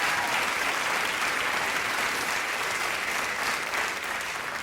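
A large crowd at a street protest applauding and cheering the protesters, a dense, sustained wash of clapping that holds steady throughout.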